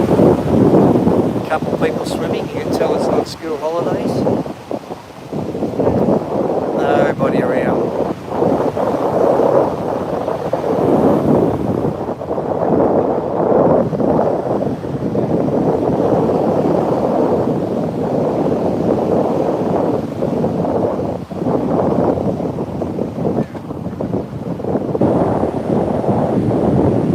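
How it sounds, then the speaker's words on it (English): Strong northerly wind buffets the microphone at a Gold Coast bay, a loud, continuous roar with gusts and possible surf beneath, steady across the whole stretch. "the northerly is howling down here"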